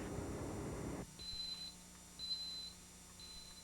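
A loud noisy rumble cuts off, then a high electronic apartment burglar alarm beeps three times in a steady repeating pattern.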